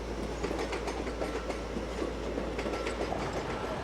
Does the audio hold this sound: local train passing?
yes